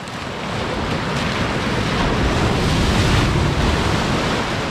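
A big wave crashes onto a beach in Albania, a steady roaring wash of surf that builds and stays loud for several seconds, mixed with wind buffeting the microphone and no talk.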